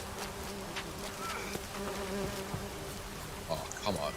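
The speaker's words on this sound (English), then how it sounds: "Bees." Bees in the video game Witcher 3 drone in a continuous, fairly loud buzz that hangs steadily over the whole moment, with faint game ambience underneath and no speech.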